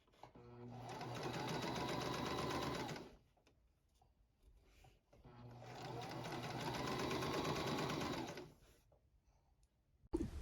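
A sewing machine stitches the edges of an Oxford-edge envelope pillowcase in two steady runs of about three seconds each, with a quiet gap between them and a brief knock at the very end.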